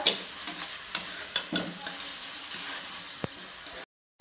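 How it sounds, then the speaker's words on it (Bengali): Meat sizzling steadily in a pan as it is stir-fried with turmeric and chili powder, with sharp scraping clicks from the stirring utensil over the constant frying hiss, ending abruptly. "লঙ্কা গুঁড়ি এবার কষে নেব ভালোভাবে কষে নেবো মাংসটা"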